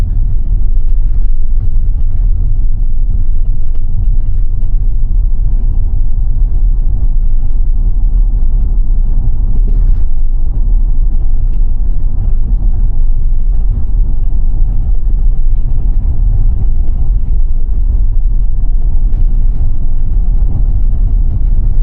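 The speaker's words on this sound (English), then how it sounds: "Car's driving better this time than he did last time." A Tesla car drives on a road around Barre, Vermont, a steady low rumble of road and tire noise inside the cabin, constant and unbroken with no talk.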